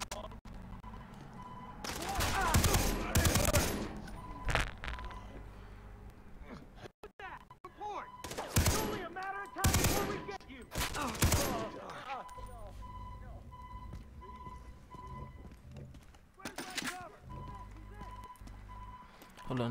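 Gunfire in the Far Cry 3 video game, loud bursts of shots in several clusters with pauses between, mixed with game sounds and someone talking.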